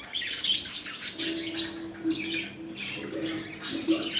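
Many caged lovebirds squawk and chirp in overlapping bursts, moderately close, with a busy, continuous chatter and no talk.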